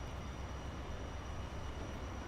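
A German train passing in the Transport Fever video game, heard as a steady, broad rushing rumble with a faint constant high tone, unbroken throughout.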